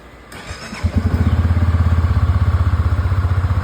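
A hard-starting motorcycle engine sputters to life and settles into a loud, steady throbbing idle with a regular pulsing rhythm, close by.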